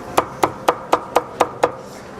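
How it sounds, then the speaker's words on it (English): A knife slicing roast pork belly on a board in seven crisp, evenly spaced knocks, close and fairly quiet, with a faint soft slice afterward. "we take some of our roast pork belly, we give it a couple of little slices like that,"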